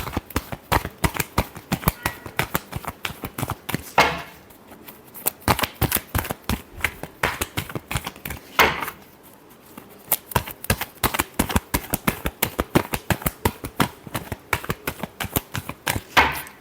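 Tarot cards being shuffled in a long run of rapid riffling flicks, close and steady, with two brief pauses before the shuffling resumes; no voices.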